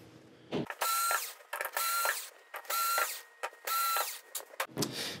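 A screwdriver ratchets out screws from the back panel of an LG 70UN7070PUA television, with repeated bursts of clicking and whirring separated by short pauses, close and alone.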